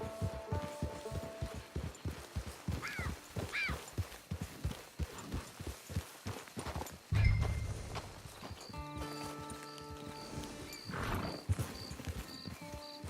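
Horse hooves clop in a fast, regular galloping rhythm in the video game Red Dead Redemption Online, close and clear, joined by a snort and a brief heavy thud partway through.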